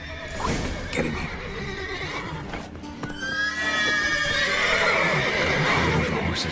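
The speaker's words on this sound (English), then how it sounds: "Gotta move the horses before they wake the guards." Horses in The Witcher 3 neigh and whinny loudly, with repeated high calls rising over steady hoof clatter and game ambience, the whinnies stronger in the second half.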